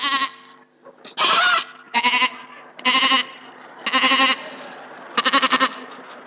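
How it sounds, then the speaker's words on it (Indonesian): A goat bleats loudly and close again and again, about six drawn-out wavering calls in an uneven rhythm, with brief pauses between them and no talking. "Tidak boleh dipotong kambing yang bersuara seperti ini."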